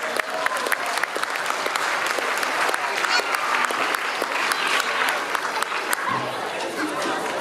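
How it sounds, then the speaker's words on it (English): A large audience at an arts festival applauds loudly and steadily for several seconds, a dense wash of clapping mixed with crowd chatter, with no speech over it. "let's give them a big round of applause"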